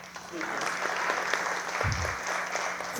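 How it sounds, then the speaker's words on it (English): Applause from the audience at a 2024 State of the City event, a moderate, even clapping that carries on steadily with a low thump midway. "Another applause?"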